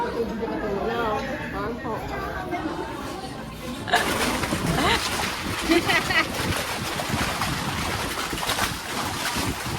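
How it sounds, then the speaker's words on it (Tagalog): Waves slap and rush against the shore of Taal Lake under heavy wind buffeting the microphone, the water loud and close after a few seconds of people talking at the start. "Grabe yung hampas ng alon, oh."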